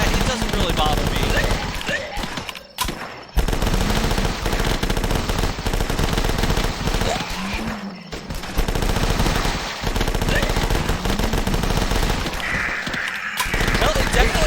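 Uzi submachine gun fire in a video game, long sustained rapid bursts with brief pauses, loud and dense, while a voice talks over it.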